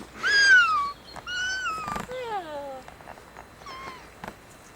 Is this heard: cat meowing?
yes